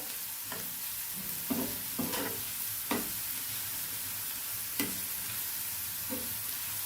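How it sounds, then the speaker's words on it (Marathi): Green chilli and garlic sautéed with onion in oil, a soft steady sizzle with half a dozen scattered stirring scrapes and taps, fairly quiet, with no voices. "तेलावर आपल्याला छान ही हिरवी मिरची लसूण परतून घ्यायचे कांद्यासोबत"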